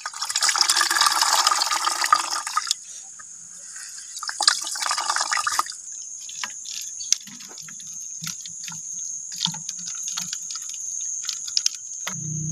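A plant mixture for a natural pesticide being squeezed in a liter of water, heard as close splashing and pouring that gives way to scattered drips and trickles over a faint steady hiss, with no talking.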